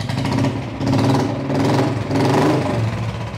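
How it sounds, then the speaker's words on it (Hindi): Royal Enfield Bullet motorcycle fitted with a long-bottle, lion-roar style aftermarket silencer, idling with a loud, steady low thumping exhaust that swells in a few rhythmic pulses, heard close with no talk. "शेर की दहाड़ जैसा ये साइलेंसर"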